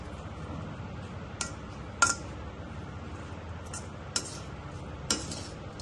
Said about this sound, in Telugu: పొయ్యి కట్టేసి నేను కలుపుతున్నానండి